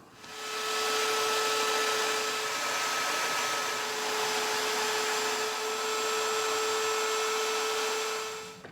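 A high-pitched power drill drives a spindle, whining continuously at steady speed, a loud sustained motor tone with a faint grinding edge as it cuts a wooden table leg.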